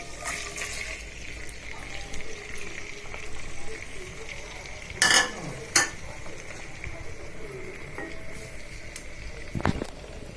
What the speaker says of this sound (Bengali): এবার কেটে রাখা পেঁয়াজ রসুন কাঁচামরিচ টমেটো দিয়ে দিচ্ছি